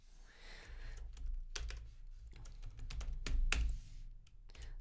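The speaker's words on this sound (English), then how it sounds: "I just pressed enter to go inside" Keys on a computer keyboard are typed in a quick irregular patter of close clicks, ending with a firmer press of the Enter key.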